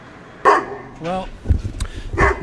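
Big guard dogs bark from nearby, several sharp barks scattered across a couple of seconds while people talk over them.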